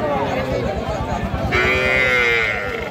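Cattle, including young bulls and heifer calves, low at a busy rural livestock market in Raniganj, Ghoraghat, Dinajpur. A long, close moo rises over the steady crowd murmur and voices.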